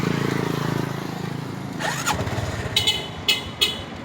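A motorcycle idles with a throaty rumble, then revs and pulls away as two riders set off toward Tabuilan, Cebu, the engine fading into lighter whooshes with a few sharp clicks near the end.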